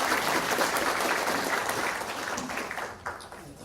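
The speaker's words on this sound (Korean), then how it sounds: "서덕태 의장님께 다시 한번 큰 박수 부탁드리겠습니다." Sustained applause from an audience at a Chungcheong regional provincial and city council policy forum, honoring the council chairman; dense, even clapping that holds steady and then slightly thins toward the end.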